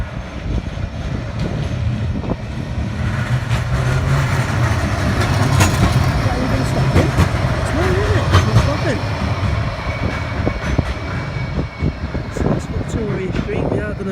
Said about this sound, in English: Here's another tram.